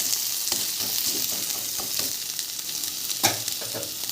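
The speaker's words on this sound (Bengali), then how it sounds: "নুন হলুদটা দিয়ে দেব, হালকা একটু এটাও নেড়ে নেব।" Fennel seeds, salt and turmeric fry in hot oil in a pan for dal, with a bright, continuous sizzle close by and soft stirring scrapes, and no talking.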